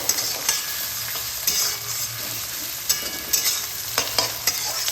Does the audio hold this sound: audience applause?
no